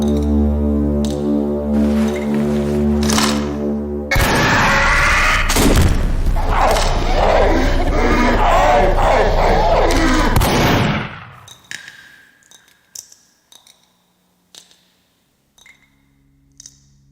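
A gunshot rings out in a Team Fortress 2 horror animation, a loud blast followed by several seconds of dense, booming noise that cuts off abruptly, leaving scattered faint clicks and thumps.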